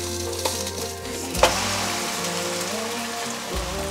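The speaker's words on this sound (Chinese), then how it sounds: "再继续让它煎" An egg pancake wrapper, store-bought, frying in a pan after being flipped, with a steady crackling sizzle throughout and a couple of brief clatters, no talk.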